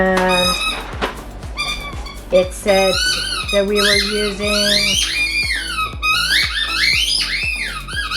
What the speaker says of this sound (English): I apologize about the dog playing in the background.